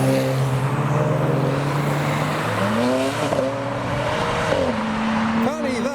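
Japanese and German cars, including a 700-horsepower BMW E92, pass one after another at a large car gathering, engines revving and pitching up and down as they drive by close, with a crowd talking underneath.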